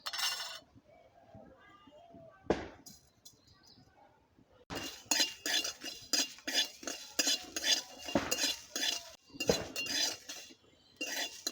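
Whole coriander seeds and cumin frying in a pan with red chilli and being stirred, giving repeated scraping clinks of a metal spoon against the pan in bursts, close and fairly loud, after a quieter start.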